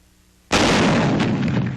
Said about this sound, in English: Combat testing the T-21, a 75mm recoilless rifle. Approximately 200 rounds are fired as the weapon is tried out for Pacific warfare.